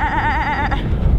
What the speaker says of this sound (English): tried talking to the goats